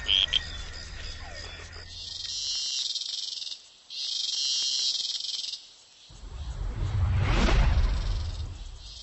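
Cicadas sing in a loud, shrill, sustained buzz that swells in two long phrases separated by brief gaps, then gives way to a low rumbling section, all without any voices.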